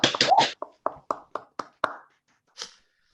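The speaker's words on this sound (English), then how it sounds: "give Sebastian a round of applause for this great presentation" A few online participants clapping after a presentation: a burst of quick overlapping claps at first, then a run of single separate claps thinning out, with one last soft clap after a pause, close and fairly dry.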